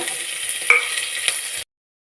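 Onion and curry leaves frying in hot oil with crackling mustard seeds, a steady close sizzle with a couple of sharp pops, cutting off abruptly after about a second and a half.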